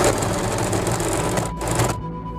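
A Usha Janome overlock sewing machine runs slowly and steadily up close, its motor humming with a soft repeating stitch pulse, before stopping briefly and fading near the end.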